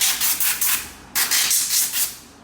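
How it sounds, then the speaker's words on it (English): A basic air blower fed by a Bauer compressor drying parts of a Scubapro dive mask, sounding as two close bursts of rushing, hissing air with short pauses, loud and alone without talk. "I'll just quickly dry some of it. I've got a basic blower."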